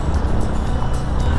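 An off-road motorcycle jolts along a bumpy, muddy forest trail on the Zhuoshe forest road in Nantou, Taiwan, its engine a close, loud low drone with uneven bumps and rattles for a short moment.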